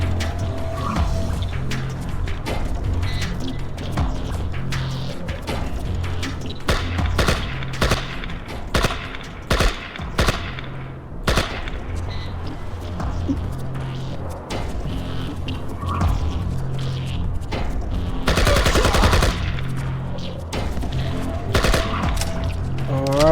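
Rapid bursts of gunfire from the IGI video game crackle almost nonstop, with loud volleys and machine-gun rattles over roughly twenty seconds, close and dominant, alongside occasional vehicle and tire-skid noises.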